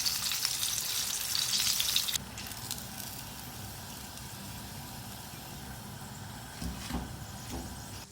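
Fish fries in hot oil for a crispy restaurant-style dish, a loud close hiss that drops to a softer sizzle after a couple of seconds, with a few brief clatters near the end and no talk.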